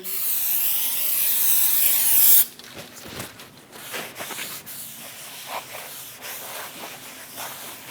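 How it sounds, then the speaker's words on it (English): A loud, steady hiss of aerosol parts cleaner sprayed on a brake rotor of a 2001-2006 Chevrolet Silverado 2500 HD for about two seconds, then quiet rubbing and scraping sounds close by. "Spray it down with some parts cleaner."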